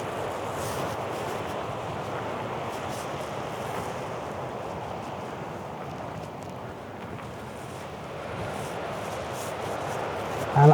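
Steady wind rushes and buffets the microphone on a mountain hike near Bondhusvatnet in Norway, a continuous broadband roar that holds at an even level for the whole stretch with no clear voices.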